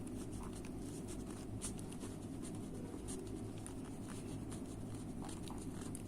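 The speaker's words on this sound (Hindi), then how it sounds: "चलिए मैं लिख देती हूँ।" Writing on a board during a chemistry class gives faint scratchy strokes scattered over a constant low background hum.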